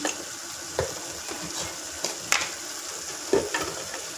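Garam masala, cumin and coriander powders roast in oil in a pan for Hyderabadi paneer: a soft, steady sizzle broken by a few scraping spatula strokes.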